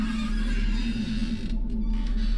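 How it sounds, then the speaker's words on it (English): Screen door creaking open, a sustained, strained creak heard close and fairly loud, with a brief interruption partway through and no talking. "I'm holding open the screen door."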